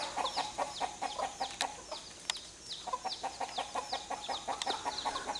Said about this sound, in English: this hen's upset because she don't like the guinea around her little chicks